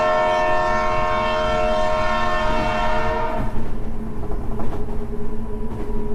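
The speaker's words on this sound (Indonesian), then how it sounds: "Kereta bergerak." A train sounds a long sustained horn, then rolls on with rhythmic clattering and rumbling wheels, loud and close, with no talking.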